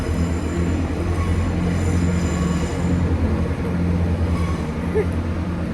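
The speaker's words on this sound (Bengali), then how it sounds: "বিশাল হাওয়া সত্যি ট্রেন যাচ্ছে দাঁড়িয়ে যাও" A train rushes past close by, a loud, steady rumbling roar of wheels and carriages with a faint metallic squeal that lasts the whole stretch.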